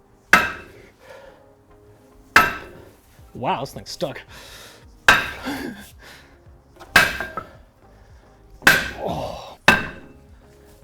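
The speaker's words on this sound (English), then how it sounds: "We got this 10-pound hammer" Heavy blows from a 10-pound hammer ring out against a brake rotor on a 2018 Daytona, about six sharp strikes spaced a couple of seconds apart, with a voice talking and exclaiming between hits.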